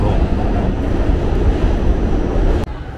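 A New York City subway train rides along with a loud, steady rumble and rattle from the car, ending in a sudden short dip in the noise.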